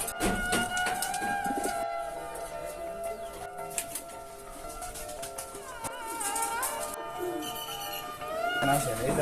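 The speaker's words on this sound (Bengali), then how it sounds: "আমি কবুতরের ফার্মে আছি" Pigeons coo at a pigeon farm, soft repeated rolling calls in the background while people talk over them, with brief louder rustles and clatters.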